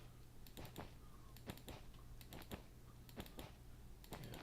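Short clusters of crisp clacks from a clacky computer keyboard, typed in small bursts spaced about a second apart over a low background hum.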